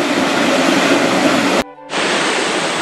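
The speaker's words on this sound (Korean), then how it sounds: "물소리가 참 우렁차다." Loud, steady rushing of a mountain stream in Pocheon Valley, Seongju, South Korea fills the clip, broken by a brief dropout before the roar resumes.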